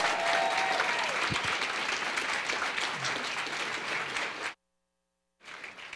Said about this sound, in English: Give them a big round of applause, please.